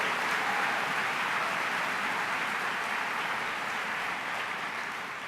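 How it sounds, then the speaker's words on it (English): Audience applause for a foundation's effort during a First Lady Michelle Obama speech, a steady dense wash of clapping that stays loud throughout and tapers slightly at the end, with no voices over it. "we need to give the foundation a round of applause for this effort"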